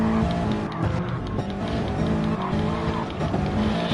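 Race car in Gran Turismo Sport on the final lap of an FIA GT Championship Manufacturers Series round, engine droning loud and steady with layered harmonic tones and brief tire scrubs, continuous throughout.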